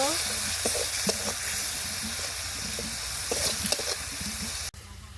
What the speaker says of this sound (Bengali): সামান্য পরিমাণ মরিচের গুঁড়া জিরা বাটা দিয়ে দিব লবণ মশলাটা খুব ভালোভাবে কষে নিব